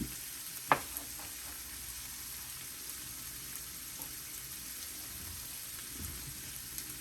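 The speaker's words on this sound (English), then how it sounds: "just always keep an eye on your peppers and onions. Make sure that they're not cooking too fast" Turkey sausage pieces cooking with peppers and onions in a pan give off a faint, steady sizzle, broken once early on by a single sharp utensil clink.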